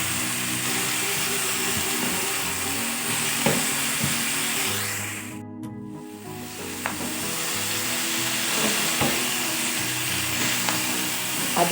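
Quail eggs go into an onion-flower stir-fry in a hot pan, a loud, steady sizzle with a brief hiss burst midway and scattered spatula scrapes and clicks throughout, no voices.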